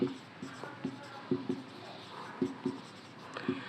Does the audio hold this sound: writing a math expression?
yes